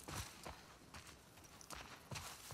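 Horse hooves clip-clopping at a steady walking pace in the video game The Last of Us Part II, several evenly spaced thuds, faint and alone.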